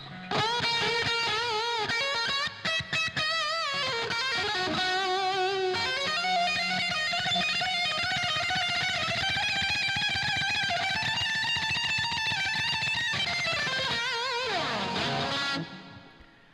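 Electric guitar through a replica pickup, heavily distorted and bright, with sustained chords and sliding notes ringing loud and continuous before fading at the end.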